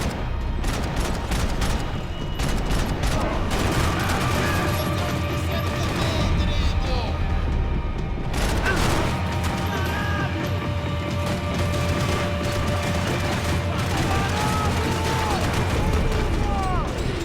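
Rapid gunfire and heavy impacts from the video game Max Payne 3, with sustained bursts, booms and crashes running almost continuously at high intensity, only a brief lull partway through.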